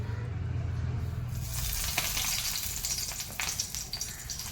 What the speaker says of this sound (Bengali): এবার আমি ফোড়ন দেবো